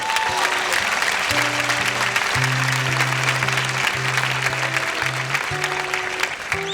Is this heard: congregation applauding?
yes